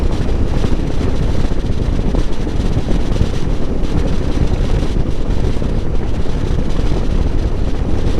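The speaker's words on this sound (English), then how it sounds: "all you see or all you hear is the wind and the engine" Heavy wind buffets the microphone in a loud, continuous roar while riding a motorcycle, with the engine's drone buried underneath.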